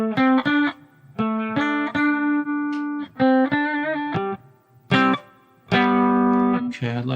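Pink electric guitar on a clean tone, heard as loud, close picked notes and chords in short phrases separated by brief pauses, alone with no voices.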